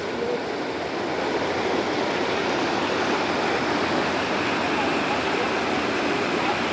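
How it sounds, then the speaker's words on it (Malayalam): A waterfall in the Soyal valley of Himachal Pradesh gives a steady, dense rush of falling water that stays even and fairly loud throughout, a continuous broadband roar with no breaks. "ഇതാണ് നമ്മളവിടെ നിന്ന് ആ രാവിലെ കുളിക്കാൻ പോയ ആ വെള്ളച്ചാട്ടം"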